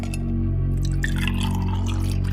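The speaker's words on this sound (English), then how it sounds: "I poured a glass of Jameson." Jameson whiskey poured into a glass at night, a steady liquid stream with faint dripping, close and continuous over a low background hum.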